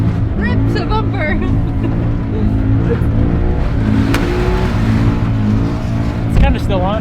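A Scion FR-S converted into a rally car revs its engine hard and continuously, a loud, close, sustained roar rising and falling as it drives, with excited voices talking over it.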